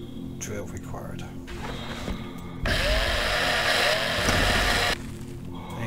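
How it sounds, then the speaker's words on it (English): A drill whirs in the space-survival game Breathedge, a steady, loud mechanical grind that starts suddenly and runs for about two seconds over a murmuring game background, then cuts off. "Drill required."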